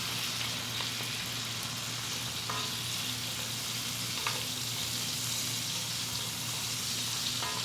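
Garlic frying and being stirred in a pan alongside other ingredients, a close continuous sizzle with occasional utensil scrapes and a low background hum, no talking.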